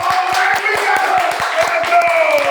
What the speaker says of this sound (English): Everybody start clapping right now